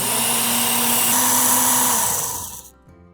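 A Work Sharp Ken Onion Edition knife and tool sharpener grinds a knife edge in a steady, loud, close motorized whine with a high grinding tone, then spins down and fades near the end.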